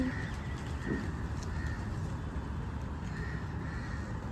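A crow caws a few times among a flock of pigeons, the short harsh calls rising over a steady bed of outdoor background noise.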